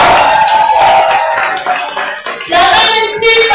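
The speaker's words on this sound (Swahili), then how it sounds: "Makofi ya Simba." Crowd at a Changamwe small and medium enterprises empowerment forum applauds for Simba, a loud close burst of hand clapping with a voice speaking over it.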